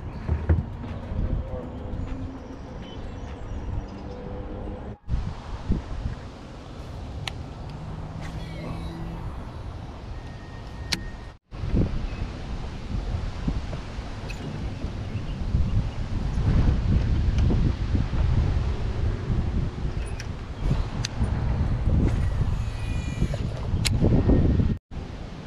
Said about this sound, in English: Wind blowing that way